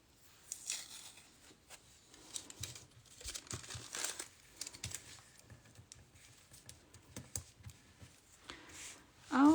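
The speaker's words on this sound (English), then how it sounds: "So I will tape this piece in place." Paper and tape being handled while a sewing pattern piece is taped in place: soft, close crinkling, rustling and small tearing sounds in scattered bursts, fairly quiet, with no speech.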